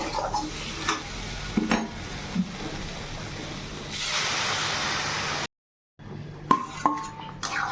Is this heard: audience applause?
no